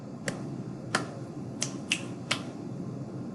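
Five sharp finger snaps form an uneven body percussion rhythm, the pattern repeated back as an echo, close and crisp over a faint room hush, with no talk.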